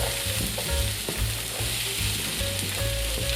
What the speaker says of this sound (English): heat a couple of tablespoons of rapeseed oil in a saucepan or a frying pan, and when it's hot, toss in the onions and the red bell pepper.